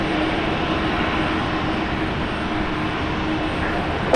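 Steady, loud jet engine roar of an airliner taking off from runway 19 right at Brisbane International Airport, a broad continuous rumble holding evenly throughout.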